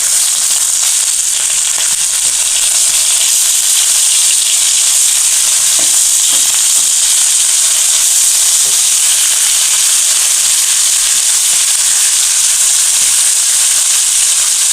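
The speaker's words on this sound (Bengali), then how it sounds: "আমার মাছের পিঠটা ভাজি হয়ে গিয়েছে এবার পিঠটা উল্টে দেবো" Fish frying in oil in a pan for a mustard and poppy-seed jhal, giving a loud, steady, close sizzle that holds without break throughout, with faint occasional crackles.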